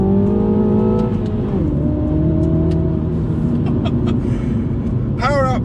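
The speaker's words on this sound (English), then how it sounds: "this is a 2 litre turbocharged, well, twin power turbocharged engine" A 2019 Mini Cooper JCW with a 2-litre TwinPower turbocharged engine making 230 bhp drives along, its engine droning loudly up close. The pitch drops through a gear change, then holds steady, with a brief high sweeping whine near the end.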